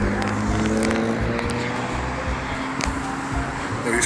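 Cars drive past on a street at steady volume, their engine and tyre noise swelling and fading with a few sharp crackles and clicks, no talking.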